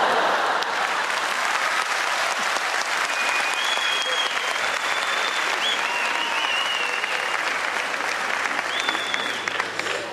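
A stand-up comedy audience applauds steadily for about ten seconds, a dense close wash of clapping with faint whistles and no clear talking.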